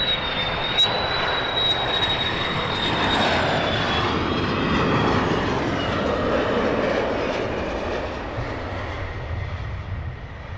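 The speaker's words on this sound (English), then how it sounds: "That sounded like an F-35 then running." An F-35 fighter jet engine runs at RAF Lakenheath, a steady powerful roar with a high whine that slowly drops in pitch and then fades slightly toward the end.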